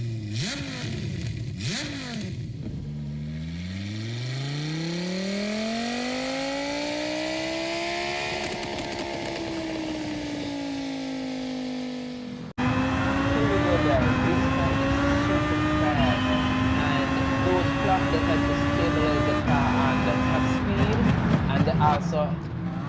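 Race car engine driving in GT Sport, a sustained loud drone that swoops down and climbs steadily in pitch, then holds a higher, harsher steady tone after an abrupt shift, with no voices.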